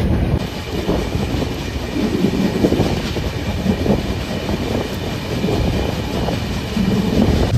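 The 12021 Barbil Jan Shatabdi Express running, heard from inside the coach as it nears Dangoaposi station: a steady, loud rumble of wheels and carriage with faint rhythmic clatter, continuous throughout and without voices.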